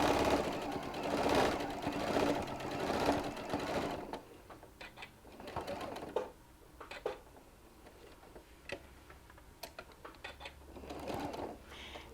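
A sewing machine stitches a bandana-style fabric mask, running in a fast, close buzzing burst, pausing, then restarting in shorter intermittent runs with small clicks between.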